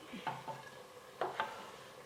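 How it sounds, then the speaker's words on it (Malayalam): Grated coconut frying in hot oil for a Kanjirappally-style beef fry, with soft sizzling and a few distinct scoops and stirs of a ladle against the pan, close and moderately quiet. "തേങ്ങ ഒരു ഇത്രയും മൂത്തിട്ടുണ്ട് അതന്നേരം നമുക്ക് കോരി മാറ്റാം"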